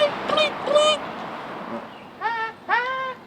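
A person's voice imitates a bird with a few short, honking, goose-like calls, two clear pairs separated by a quiet pause and heard close up without other sounds.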